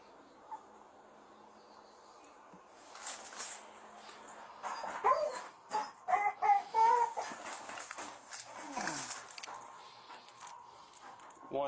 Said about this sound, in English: Oh, we got a bunch of little puppies in here.